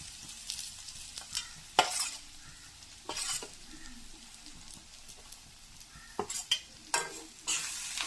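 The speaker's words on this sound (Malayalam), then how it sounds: "ഇളക്കി കൊടുക്കാം." A spatula stirs a sizzling pan of pappadam thoran mixture frying with dried red chillies. Soft scraping strokes come in short, irregular bursts over a quiet background sizzle.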